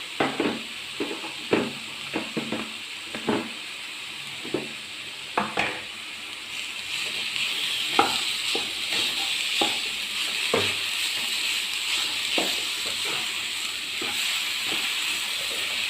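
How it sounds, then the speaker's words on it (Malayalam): Chopped dates are stirred into a sizzling mixture in a pan, with a run of spoon knocks and scrapes at an uneven rhythm over a steady frying hiss. "ഞാൻ ഈ ഈന്തപ്പഴം മരിഞ്ഞ് വെച്ചേക്കുന്നത് ഈ മിക്സിലേക്ക് ഒന്ന് ഇട്ട് കൊടുക്കാം എല്ലാം കൂടി ഒന്ന് ചേർന്ന് കുഴച്ചെടുക്കാനായിട്ട്"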